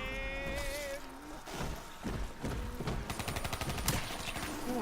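An automatic weapon fires rapid bursts in Call of Duty Zombies, its quick repeated shots blending with dense, loud game noise and effects.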